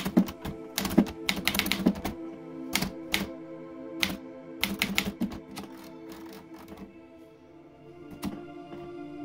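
A vintage SCM Smith Corona Super G typewriter is typed on in sharp mechanical bursts, clusters of crisp key strikes separated by short pauses and a lighter clack of the carriage, close and alone.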